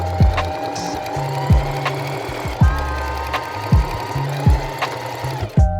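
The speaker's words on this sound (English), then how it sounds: "I'm just gonna sew these strips on the inside." Sewing machine stitching strips onto the inside of a jacket lining, in short bursts of rapid needle thumps separated by brief pauses, close and clear.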